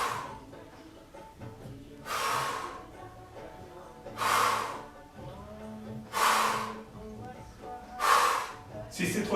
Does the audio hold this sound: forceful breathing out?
yes